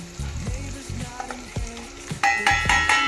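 Biryani masala, coriander powder, turmeric and garam masala stirred into a pan for chicken pulao, giving a steady close sizzle with repeated scraping strokes of the spoon and sharper clatter toward the end.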